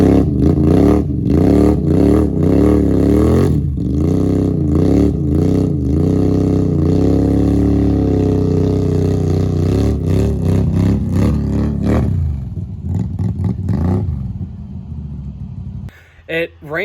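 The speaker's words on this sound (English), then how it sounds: "having him pull his quad out with his truck" A truck's engine revs and rumbles loudly and steadily while pulling a quad stuck deep in rain-soaked mud, the strain rising and falling before cutting off near the end, with voices underneath.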